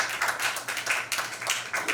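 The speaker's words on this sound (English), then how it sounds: "A big round of applause." An audience at a press conference for the KASHISH festival claps in a brief, close patter of applause lasting about two seconds.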